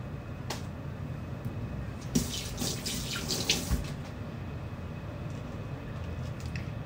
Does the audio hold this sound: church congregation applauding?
no